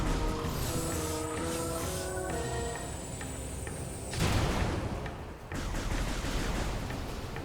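Auto turrets firing in Metroid Prime Remastered, a quiet, steady stream of shots over a droning, tonal background, then a brief louder swell and burst partway through.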